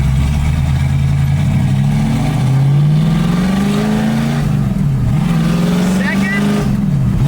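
A 1965 Ford Mustang accelerates hard through its gears, the engine note climbing steadily, dropping at a shift and rising again, loud and close inside the car with excited talk over it.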